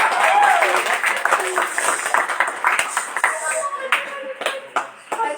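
A group at a primary-school speech practice session claps, a scattered round that starts full and then thins into sparse, uneven individual claps with a few bright taps, with voices mixed in.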